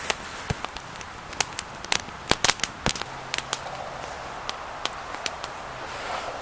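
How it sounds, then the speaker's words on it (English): Birch tinder fungus crackling in an outdoor campfire, sharp irregular pops and snaps, some clustered and loud, others sparse, over a soft steady hiss of fire, close and without talk. "We'll put this tinder fungus in the fire for a second,"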